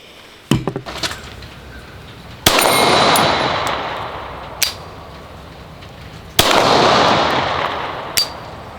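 Two loud, close gunshots from a Rock Island Armory 1911 pistol fire several seconds apart, each followed by a long outdoor rumble and decaying echo, with sharp metallic clinks between shots.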